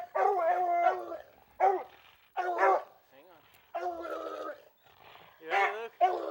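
Hunting dogs bay and howl on a mountain lion's tracks, several drawn-out harmonic cries coming in bursts with short gaps, fairly close and loud.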